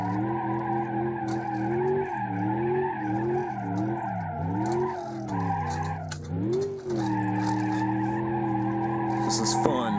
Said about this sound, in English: Let's do some donuts.